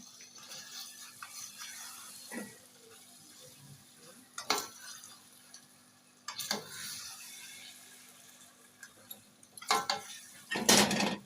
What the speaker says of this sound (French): Nous allons donc ajouter un peu d'ail. Nous allons mélanger.